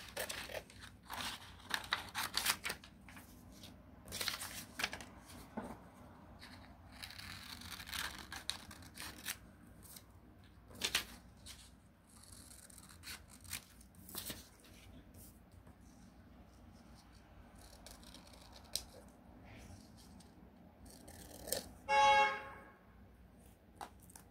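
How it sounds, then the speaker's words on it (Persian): Scissors cut out a fabric back pattern piece with scattered crisp snips and crunching cuts, some close and loud and others faint, across a long quiet stretch. "الان من دوباره این الگوی پشتمو برش میزنم"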